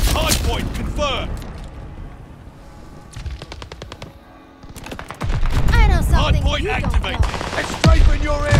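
Strafing run gunfire in the Call of Duty Vanguard video game: dense, loud bursts of rapid automatic fire and impacts, easing briefly midway before a heavier barrage, with game voices mixed in.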